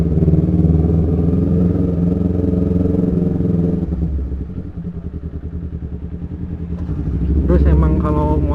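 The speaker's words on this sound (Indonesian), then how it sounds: "emang kalau motor yang knalpotnya ada suaranya kayak gini" A Kawasaki Ninja motorcycle with a loud aftermarket exhaust rumbles close by, idling with a deep throbbing burble that dips and then swells as the throttle rises near the end.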